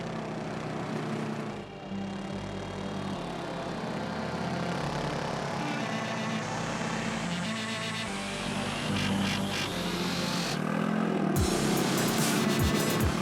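A Polaris Ace 900 SP off-road vehicle's engine roars loudly and steadily nearby, revving and rising in pitch as it accelerates, with no voices.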